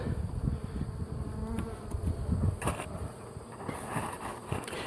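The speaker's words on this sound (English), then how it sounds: "try and keep most of the bees from finding this" Bees buzzing around a hive while honey frames are collected, a busy droning hum with individual insects passing close by, steady and fairly quiet.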